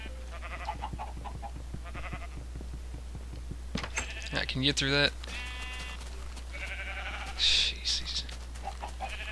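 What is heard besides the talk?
sheep bleating in Minecraft video game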